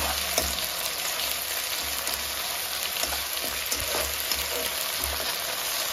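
A spoon and a half of ginger-garlic paste mixed and fried in a pan for a young jackfruit curry gives a dense, continuous close sizzle with light stirring scrapes throughout.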